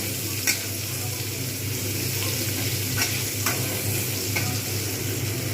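Shrimp fry in a pan for mixed fried rice: a constant close sizzle with a few scraping stirs of a spatula.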